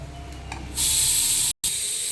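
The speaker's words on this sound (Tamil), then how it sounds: "கொதிக்கட்டும்." A pot of fish curry on the boil gives off a sudden, loud, steady hiss and sizzle that continues after a quiet start, with a brief break.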